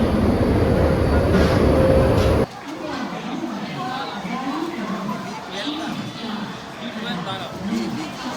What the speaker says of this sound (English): This is our train for the next 3 hours.